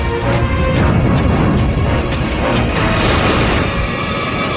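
A fire tunnel stunt ignites with a loud, sustained roaring whoosh of flames that stays dense and close for the whole stretch, with no clear voices over it.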